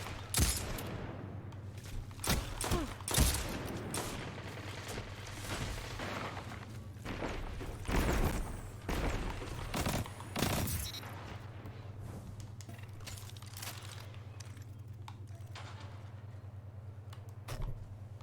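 Pulse rifle fire in Destiny 2 PvP on Xbox, heard as repeated sharp bursts of shots scattered across the clip, some loud and close, over a steady low game hum, with no talking.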